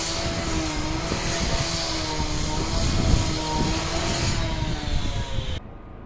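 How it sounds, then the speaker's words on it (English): A helicopter flying over a tower block estate in Clapham, London: a steady, loud engine drone with a low rhythmic thrum hangs overhead throughout, then cuts off abruptly near the end. "Another helicopter. There's a million helicopters here."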